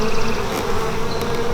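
Honey bees buzz steadily over open hive frames during a colony inspection: a loud, dense, continuous drone with no pauses and no voices.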